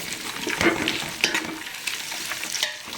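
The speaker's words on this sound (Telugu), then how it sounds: "జీడిపప్పు వేసుకుందాం ఇప్పుడు శుభ్రంగా కలుపుకుందాం" Cashew nuts stirred and fried in a pan for mutton dum biryani, a close, lively sizzle with scraping spoon strokes and a few light clinks against the pan, no speech.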